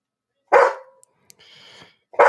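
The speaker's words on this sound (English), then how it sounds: "You guys can hear Abby the Break Dog behind me." A pet dog named Abby barks from a nearby room during a livestream, two sharp close barks separated by a brief pause with faint rustling between them.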